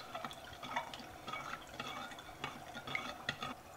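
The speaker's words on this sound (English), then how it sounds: "We're just going to stir that together until the sugar is all dissolved." A spoon stirs a marinade of liquid, sugar and crushed garlic in a bowl, giving faint, irregular clinks and soft liquid swishes close by, with no voices.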